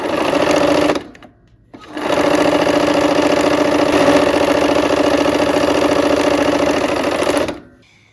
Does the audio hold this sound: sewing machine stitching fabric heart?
yes